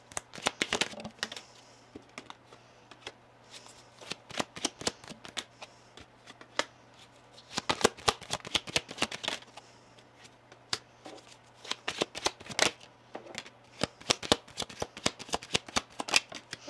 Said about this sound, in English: Can I get 2 cards here for each row, please, for Libra?